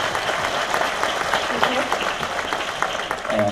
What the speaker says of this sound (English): yes, sure, absolutely, applaud her